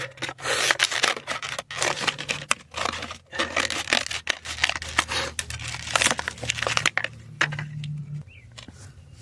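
A J-B Weld SteelStik epoxy putty stick is cut for repairing a cracked muffler, giving dense, close scraping and cutting noises in bursts, with a low hum underneath.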